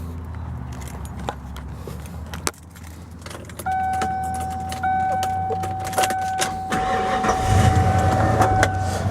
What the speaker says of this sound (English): I'll pop the hood and grab the keys out of the back here.